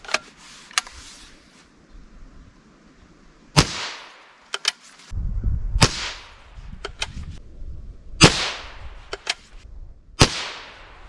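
Sharp .22 LR rifle shots from a 24-inch barrel crack out one at a time at irregular intervals, loud and close, each with a brief ringing tail, over faint background noise.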